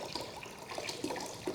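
Water, about two litres for an ammonia and baking soda cleaning mix, pours steadily with a soft splashing wash, fairly faint and close, with no talk over it.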